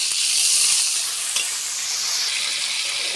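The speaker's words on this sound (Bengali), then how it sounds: "আমাদের চিংড়ি মাছ ভাজা হয়ে গেছে" Shrimp fry in hot oil for biryani, making a loud, close, hissing sizzle that stays steady throughout, with no voices.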